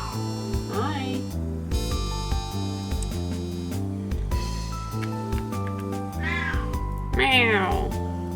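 A pet cat meows repeatedly in a room at close range, several rising cries spread across the span over steady background game music, with a louder, drawn-out meow near the end.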